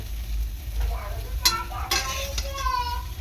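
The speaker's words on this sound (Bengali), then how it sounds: "হালকা করে ভেজে, একদম হালকা করে ভেজে আমি সয়াবিনটা তুলে নেব" Soybean chunks frying lightly in hot oil give off a soft, steady sizzle, with a few stirring scrapes and clinks and a faint voice underneath.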